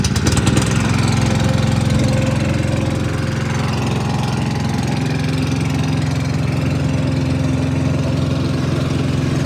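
Small engine on a work trailer, started with the choke on and held at mid-throttle, running in a steady, loud, close drone without a break.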